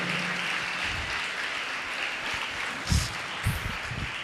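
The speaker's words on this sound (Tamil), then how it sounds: "ஒரு பலத்த கைத்தட்டல்." A crowd at a state-level school kabaddi tournament's closing ceremony claps steadily in a broad, sustained wash of applause, fairly loud throughout, with a few low thuds near the end.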